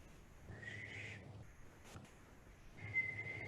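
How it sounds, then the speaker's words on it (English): A slow, controlled breathing whistle during a Kundalini yoga lung exercise, two faint steady tones drawn out over a second or more each, separated by a quiet pause. "I'm just leaning back and I begin the whistle"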